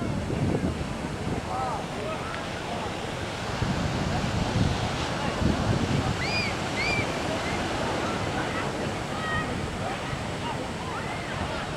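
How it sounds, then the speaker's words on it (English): Surf and wind at Manly Beach in Sydney, a steady broadband wash of breaking waves and gusting air filling the whole stretch, with a few faint distant bird-like chirps mid-way. "This is Manly Beach."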